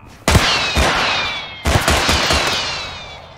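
Two loud bursts of rapid gunfire in the video game Totally Accurate Battle Simulator, Wild West campaign, each a sharp crackling volley with ringing tails, the second starting about a second and a half after the first.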